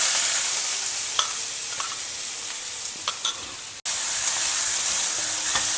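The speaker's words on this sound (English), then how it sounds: "Fry the onions well." Finely chopped onions frying in a pan with cumin and fennel seeds, giving a constant close hissing sizzle broken by a few sharp stirring clicks and a brief dropout, with no talk.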